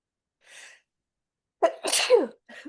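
A short breathy intake followed by a loud, close sneeze, then a faint trailing breath.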